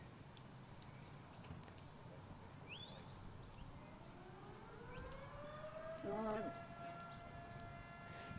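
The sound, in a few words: siren sounding at 8 o'clock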